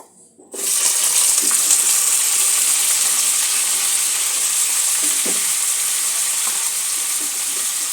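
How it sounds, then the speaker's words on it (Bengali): Grated onion drops into hot oil for a mutton curry and bursts into a loud, steady sizzle that holds evenly for several seconds after a brief quiet start. "পেঁয়াজটা একটু হালকা করে ভেজে নেব"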